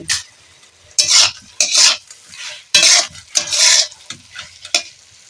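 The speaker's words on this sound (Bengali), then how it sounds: "দিয়ে দেব আলু আর ওলকপি এটাকে এইভাবে একটু নাড়াচাড়া করব এক দু মিনিট ধরে" Potatoes and kohlrabi are stirred in a pan of fried spices, making close, repeated bursts of scraping and sizzling that come in short, uneven strokes with brief pauses between them.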